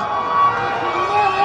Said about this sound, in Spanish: ambulancia popular, traslada algún herido en este minuto